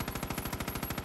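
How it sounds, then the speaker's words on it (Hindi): Automatic gunfire in the video game Far Cry 5 rattles out as a rapid, even burst of about a dozen shots in one second, loud and close, with no voices. "और ये फायरिंग"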